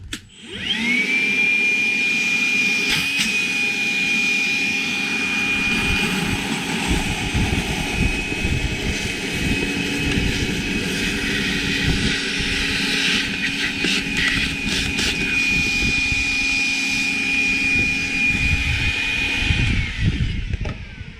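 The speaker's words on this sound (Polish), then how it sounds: "Odkurzacz radzi sobie dobrze podczas pracy na mokro." A Makita DVC750L 18V LXT brushless cordless vacuum cleaner runs in wet mode with a loud, constant motor whine and rushing airflow, while gurgling and clattering bursts of sucked-up water come through partway.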